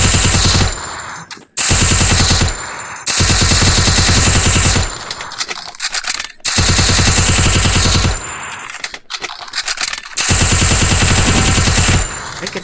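Loud bursts of rapid automatic gunfire in a video game, several long sustained volleys separated by brief pauses, close and harsh.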